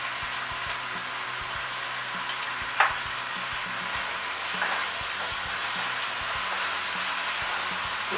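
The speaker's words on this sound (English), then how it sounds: "This is going to cook down till the onions are really nice and soft and start to caramelize" Onions and mushrooms cooking down with a little brown sugar in a pan, a quiet continuous sizzle with faint low hum beneath and one sharp clink of a utensil.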